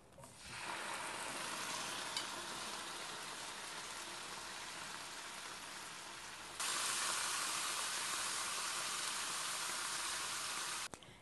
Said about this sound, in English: And then I'm going to sear it.